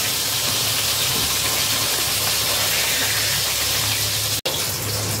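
Fish frying in mustard oil in a home kitchen gives a loud, steady hiss across the whole clip, with one abrupt momentary cut near the end.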